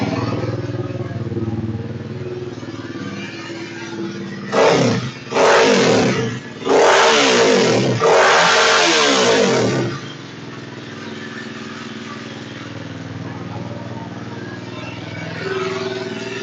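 A 2001-2007 Kawasaki KLX250R dirt bike with newly installed JD jetting and carburetor starts and idles close by, broken by four sharp revving bursts in quick succession before settling back to a steady idle.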